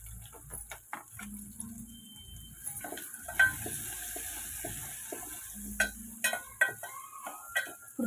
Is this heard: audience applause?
no